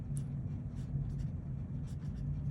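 Pen writing on a surface during an art lesson, soft scratchy strokes in short bursts over a steady low hum, faint and close.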